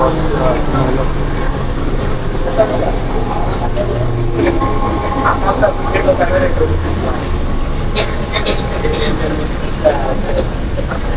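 Inside a moving passenger train at midday, a loud continuous rumble and rattle of the carriage fills the space while many passengers murmur and chatter around.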